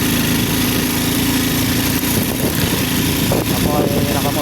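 Motorcycle engine droning steadily and loudly while riding, with wind rumble and a voice talking over it.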